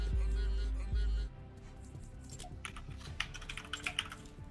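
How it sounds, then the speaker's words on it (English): Computer keyboard typing during a live stream voice chat, with a quick run of light, close key clicks in the second half after a loud low thump at the start. "I hear, who's typing?"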